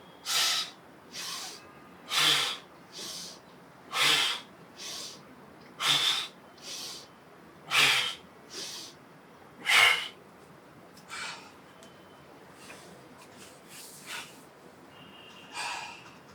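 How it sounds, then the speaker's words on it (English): Forceful deep breaths during a prisoner-style bodyweight workout come in a strong, regular series of loud hissing exhales about every second or two, close to the mic, fading somewhat softer toward the end with no talking. "Let the neighbors hear your breath."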